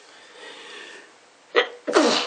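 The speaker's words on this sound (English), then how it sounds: "Had to sneeze in a Q&A video" A person's sneeze bursts out after a quiet stretch of faint room noise, first a short sharp inhale-like burst and then a louder, longer explosive sneeze close to the mic.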